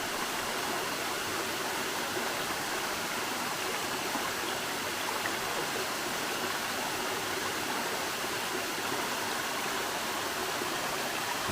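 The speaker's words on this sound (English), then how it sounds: "And here yet is another good view of the waterfall." Nancy Town Falls running high after Hurricane Helene, a steady, dense roar of rushing water that fills the whole clip at constant strength with no voices.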